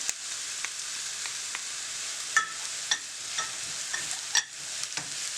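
Garlic frying and sizzling steadily in a pan, a constant hiss punctuated by occasional sharper scrapes and clicks from stirring, close and fairly loud.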